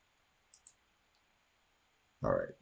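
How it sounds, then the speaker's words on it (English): Two quick, crisp computer mouse clicks in close succession, followed after a pause by a short burst of speech. "So I'm going to click on it."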